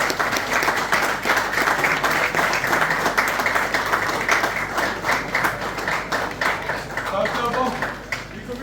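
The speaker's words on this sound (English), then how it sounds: "Give it a big round of applause" Show audience applauding after prize results are announced, with steady, sustained clapping and a few voices mixed in, fairly loud and close throughout.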